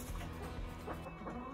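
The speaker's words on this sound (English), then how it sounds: "More chickens in there." Hens clucking and murmuring close by in a coop with extra roosts, a steady busy chatter of several birds with no talking.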